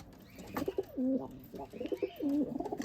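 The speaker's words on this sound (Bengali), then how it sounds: "ভাইয়ের হাতে একটা মেয়ে পায়রা আছে আর আমার হাতে একটা ছেলে পায়রা আছে" Pigeons of a Girebaz line cooing up close, with two rounded, throaty coo phrases in a short rhythmic sequence and faint background noise.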